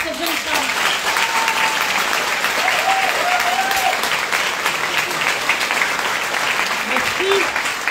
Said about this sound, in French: Je voudrais qu'on fasse un tonnerre d'applaudissements pour cette jeune femme.